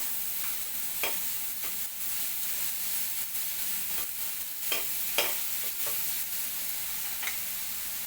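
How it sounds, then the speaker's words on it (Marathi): Chopped onion sautés in a pan with a soft, steady sizzle, punctuated by light scraping and stirring clicks at an irregular pace, fairly quiet and with no voices. "आता आपण हा कांदा तो थोडा परतून घेऊया"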